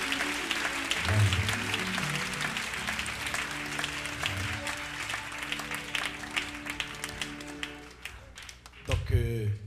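A church congregation applauding, dense sustained clapping from many hands that gradually thins out, followed by a brief voice near the end.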